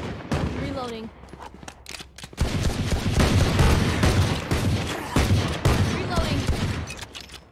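Rapid bursts of gunfire in a Valorant match, loud and dense, firing steadily for several seconds after a short pause, with a player talking over the shots at the start.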